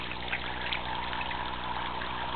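An aquaponics bell siphon flushes, draining the grow bed in a steady, loud, continuous rush of water with no pauses.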